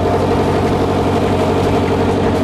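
A steady, loud boat engine of nearly 80 horsepower drones continuously with a deep rumble and constant vibration, unchanging throughout.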